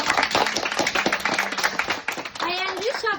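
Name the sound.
school audience applauding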